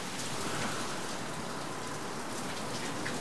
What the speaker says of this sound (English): Then why is it raining outside?